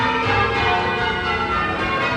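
Church bells rung by rope in southern England, several overlapping bell tones sounding loud and close, their rich ringing sustaining and blending throughout without any talk.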